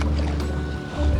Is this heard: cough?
no